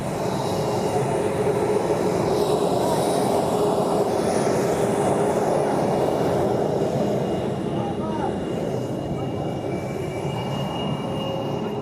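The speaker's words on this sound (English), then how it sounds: "there's one that's landing as well right now. There's another jet, short final." A jet roars loudly and steadily overhead on short final to land at Joint Base Langley-Eustis, a broad rushing engine noise that persists throughout.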